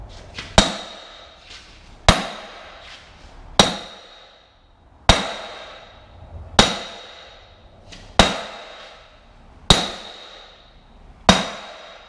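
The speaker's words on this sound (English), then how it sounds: "And I'm steadily beating this thing. I got a bigger hammer." A heavy hammer strikes a semi truck driveshaft yoke with no puller, eight sharp metallic blows spaced about one and a half seconds apart, each ringing briefly before fading, close and loud.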